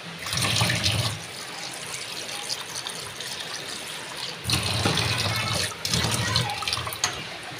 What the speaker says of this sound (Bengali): চলো একটু ধুয়ে নিই।